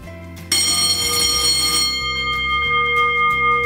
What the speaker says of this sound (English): who needs anything when you've got an awesome school bell?